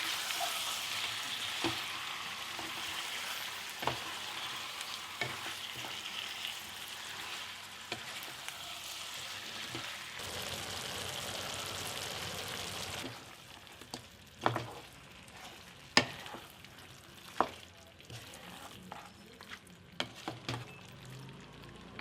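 Goat head pieces fry with turmeric, ginger garlic chili paste and salt in a pan, giving a steady dense sizzle that later thins out, broken by a few sharp clinks and scrapes of stirring.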